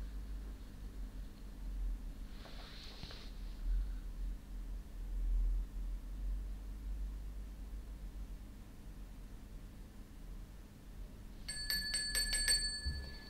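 A quick bright ring of a small bell, like a bicycle bell, near the end over a steady low hum, with a faint swish earlier.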